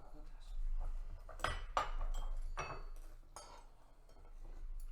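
Fork and knife clinking against a plate while eating a Chick-fil-A pizza, a few sharp metallic clinks and scrapes spaced irregularly under nearby talking.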